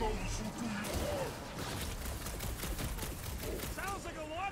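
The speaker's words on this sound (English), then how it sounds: "Sounds like a lot of flork and gunfire!" Gunfire and weapon blasts from a sci-fi firefight in the Guardians of the Galaxy video game, a dense, continuous barrage with overlapping shots and game voices chattering throughout.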